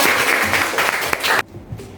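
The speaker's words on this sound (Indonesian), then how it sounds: "Tepuk tangan bagi kita semua." A classroom of students claps together in dense, steady applause for about a second and a half, then it cuts off abruptly into a quiet room.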